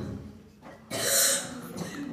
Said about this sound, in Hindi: क्या करे खांसी आवत बो?